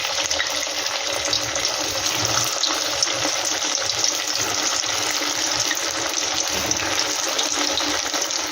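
Sago pakoras sizzle in hot oil, a dense, continuous hiss of frying held at an even level close by, with no talk throughout.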